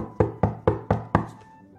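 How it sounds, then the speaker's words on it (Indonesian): Five sharp knocks on a door, evenly spaced and close, each with a short ringing decay, then quiet. "Sebentar lagi ada yang ketok lagi."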